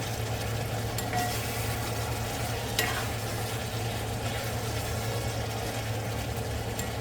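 Onion steak fries over high heat with a loud, steady sizzle and occasional stirring scrapes, a constant dense hiss throughout and no talking.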